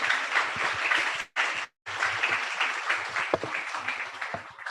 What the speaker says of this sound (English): There are very little claps.